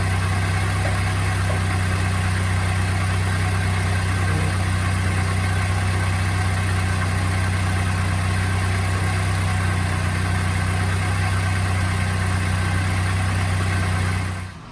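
Mazda Roadster MX-5 engine idling in a workshop during a transmission flush and fluid change, a loud, steady low drone with constant hum and no speech, cutting off at the very end.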